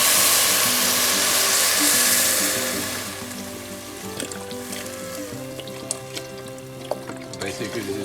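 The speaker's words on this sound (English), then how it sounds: "And now we're going to add our vegetable broth." Vegetable broth poured into a pot of seared vegetables for soup: a loud sizzling, hissing rush at first that fades into softer bubbling and light clinks, with no talking.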